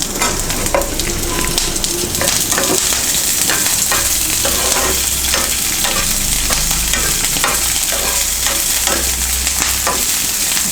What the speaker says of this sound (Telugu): మిరపకాయలు కొంచెం 1-2 నిమిషాలు అలా కొద్దిగా వేపాలి.